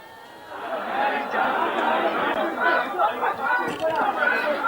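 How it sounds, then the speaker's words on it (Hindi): Crowd of protesters gathered at a demonstration in Mumbai, a dense, steady wash of many overlapping voices that swells after a quieter start and holds at a busy, continuous level. "उनके पीछे भी काफी भीड़ दिख रही है"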